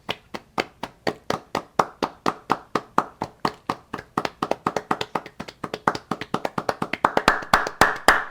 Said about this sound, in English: Please, please clap.